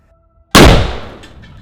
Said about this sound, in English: So that's all a controlled explosion